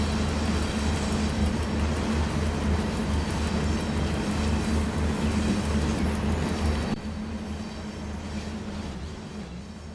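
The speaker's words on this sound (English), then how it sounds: "It's a big old train." A heavy train in the SimRail rail simulator runs with a loud, steady rolling rumble and clatter of wheels on track, easing slightly quieter near the end.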